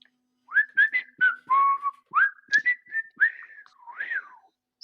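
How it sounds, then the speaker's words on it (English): A person whistles a short tune up close, a run of clear pitched notes with slides and bends, each note distinct and separated by brief gaps, with no talking. "That whistling on command."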